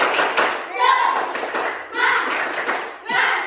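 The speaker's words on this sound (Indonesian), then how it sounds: "Tepuk semangat." A school class joins in a rhythmic 'tepuk semangat' spirit clap, with bursts of hand claps in short patterned groups, close by, while young voices chant along.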